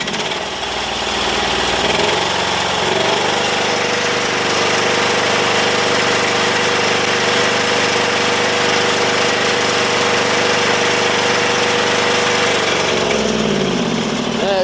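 Briggs & Stratton 20 hp V-twin engine on a Sears Suburban loader runs loud and steady close by for about twelve seconds, then stumbles and loops unevenly near the end as it starts to die.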